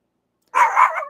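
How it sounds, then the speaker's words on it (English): A dog gives a single loud, close bark, a brief burst that breaks into an otherwise silent indoor setting during a tarot reading. "Sorry about the dog."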